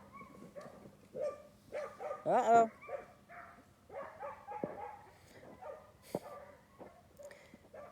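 Dogs bark and yip outdoors while chasing a coyote, a series of short, moderately distant barks scattered over several seconds, with a person talking briefly amid them.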